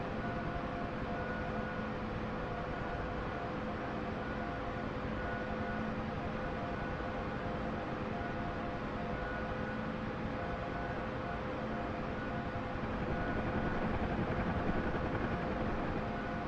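A Huey helicopter lifts off in a flight simulator game over Afghanistan, a continuous loud engine whine and rotor drone with steady tonal hums and no voices.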